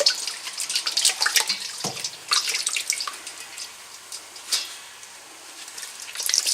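Water splashes and drips as Gotland wool fleece is rinsed in freezing-cold water after a hot wash, with uneven trickling and dribbling at close range and no speech.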